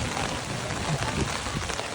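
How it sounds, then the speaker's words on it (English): Heavy rain pours on Boracay Island as a steady, dense, even hiss of drops striking surfaces, moderately quiet and without talking. "I'll just enjoy the rain."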